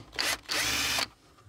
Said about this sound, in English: it's just some Phillips screws, so we'll get the screw gun again